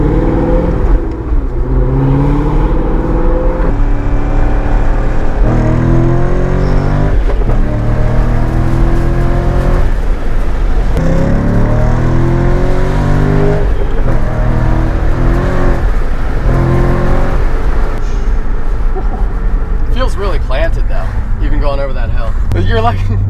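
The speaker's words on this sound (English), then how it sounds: "this car has a Corsa exhaust system installed" A C6 Corvette Z06 with its LS7 V8 and Corsa exhaust rumbles loud and steady, engine pitch rising and falling as it revs and pulls, with people talking over the drone throughout.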